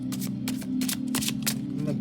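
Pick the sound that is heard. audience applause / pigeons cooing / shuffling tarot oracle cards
shuffling tarot oracle cards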